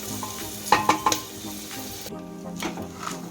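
Vegetables and washed rice for pulao fry in a pan, with a soft continuous sizzle broken by a few sharp clinks and stirring scrapes near the start, close and alone.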